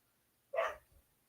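One short dog bark or yip from dogs playing rough outdoors, a single brief burst heard from a moderate distance with a faint thump following it.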